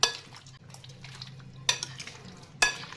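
Raw mutton liver is mixed with ginger-garlic paste in a bowl, giving soft wet squelching stirs broken by two sharp clinks of a utensil against the dish.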